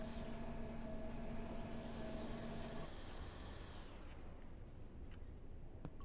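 Torpedo striking and exploding against a ship in the submarine game UBOAT, a heavy rumbling blast that rolls on for a few seconds before fading into a low, quieter murmur with a few faint clicks.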